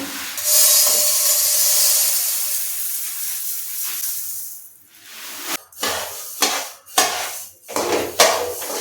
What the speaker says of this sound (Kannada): ಈಗ ಇವಾಗ ನಾನು ಸ್ವಲ್ಪ ಸ್ವಲ್ಪನೇ ಧನಿಯಾ ಹಾಕ್ಕೊಂಡು ಹುರಿತೀನಿ